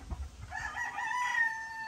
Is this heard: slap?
no